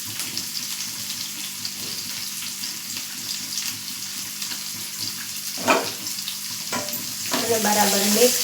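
Finely chopped onion sizzles quietly in a pan over low gas flame, a soft steady fry with occasional louder stirring scrapes and clatter near the end.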